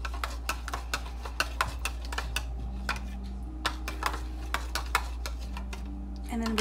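A spoon stirs a sauce seasoned with white pepper in a bowl, making a run of quick, close clinks and taps against the sides at a steady rhythm, with a faint hum underneath.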